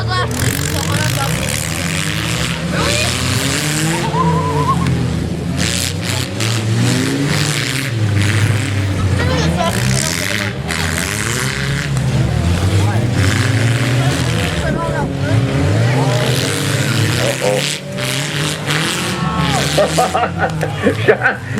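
Cars rev and grind together at a demolition derby in Lincoln, engines roaring loudly and continuously with crowd noise and an announcer's voice over the top.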